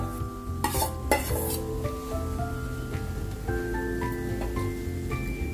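Grated red pumpkin stirred in an iron kadai, a utensil scraping and clinking against the pan in short strokes, close and fairly quiet, with a faint tonal background hum.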